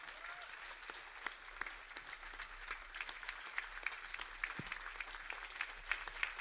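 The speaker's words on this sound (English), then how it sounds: "Let's give them all a round of applause." Audience applause for a group of D-Day veterans at an 80th-anniversary event aboard a cruise, a steady wash of clapping with sharp individual claps throughout, sustained and moderately distant.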